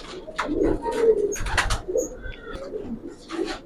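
A male Giribaj pigeon coos close by in several low, throaty bursts, with soft rustling and faint handling noises between calls.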